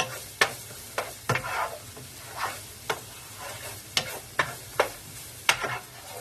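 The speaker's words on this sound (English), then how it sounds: "So we're just going to stir these for about 5 minutes or so." Chopped scooped-out vegetables sizzle steadily in a hot pan for a breakfast ranchero sauce, with a spoon scraping and stirring in repeated sharp strokes every second or so, close and moderately loud, no talking.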